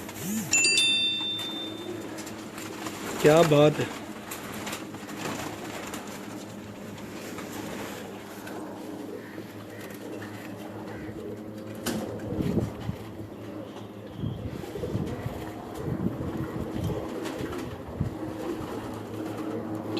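Pigeons, including a dub-marked bird, coo in short, soft bursts among other faint bird sounds, with a brief spoken remark and a low background hum.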